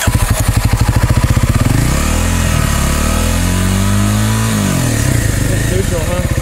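Dirt bike engine revving on a climb along a Hatfield-McCoy trail at Cabwaylingo, loud and close, chugging rhythmically before rising and falling through sustained revs, with a voice partly audible under it.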